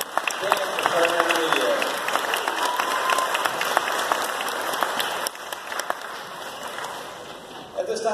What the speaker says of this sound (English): Let's give another round of applause for the band for Turner Intermediate.